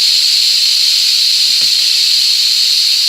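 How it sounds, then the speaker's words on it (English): An Instant Pot pressure cooker vents steam on quick release after cooking Mongolian beef, a loud, constant close-up hiss that holds steady throughout. "That finishes releasing the steam."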